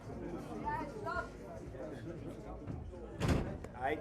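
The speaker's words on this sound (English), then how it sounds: "Lock the door." A door slams shut with a single loud thud in a room full of chattering people at a rap battle event, the crowd talk continuing around it.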